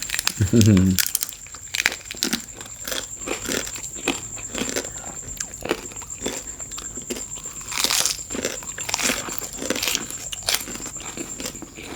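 Repeated crunchy bites and chewing of crispy deep-fried pork leg served with spicy papaya noodle salad and fresh vegetables, close and crackly, with an irregular rhythm and a few louder crunches.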